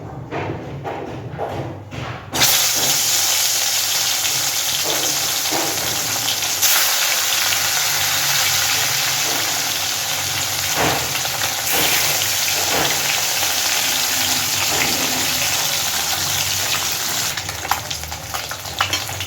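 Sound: frying salted turmeric-coated bhetki fish in hot oil

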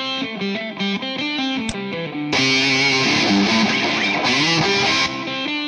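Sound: electric guitar through amp simulator

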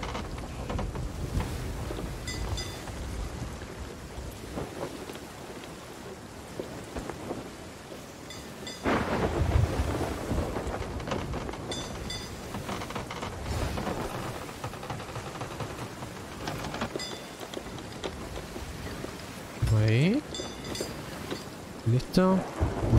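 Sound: thunderstorm and rain in Sea of Thieves video game

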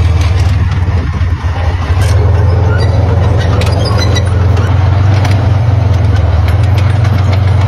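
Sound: T-55 tank engine running

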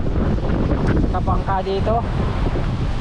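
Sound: strong wind on a boat

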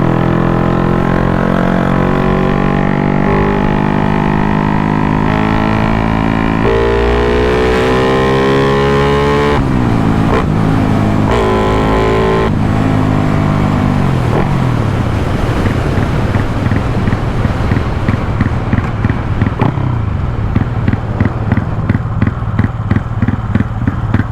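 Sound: Honda Wave motorcycle being ridden

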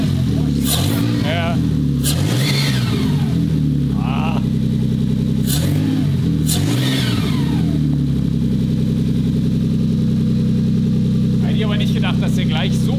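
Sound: Toyota 2JZ turbo engine revving without mass airflow sensor

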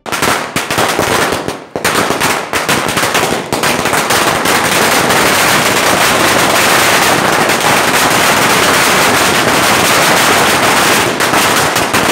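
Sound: firecrackers bursting in celebration

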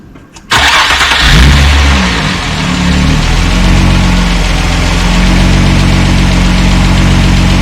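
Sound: Nissan Cefiro A33 2003 car engine running and revving

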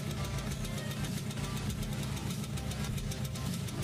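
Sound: Yamaha RZR motorcycle engine idling

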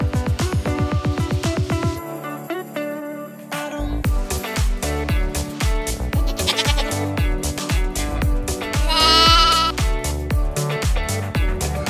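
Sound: sheep or goats bleating at a farm

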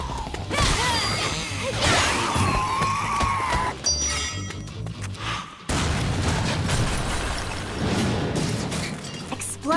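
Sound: explosions in the video game Lollipop Chainsaw RePOP

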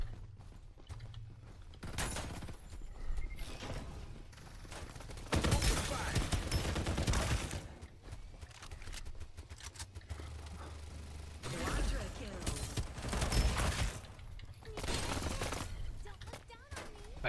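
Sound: sniper gunfire in the video game Farlight 84

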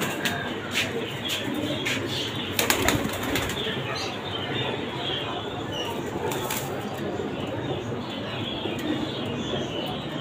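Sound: highflyer pigeons, golden female, flapping wings

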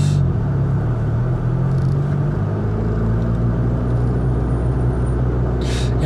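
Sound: Honda Civic Type R FK2 driving slowly in traffic

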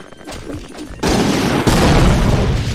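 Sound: gunfire in a video game

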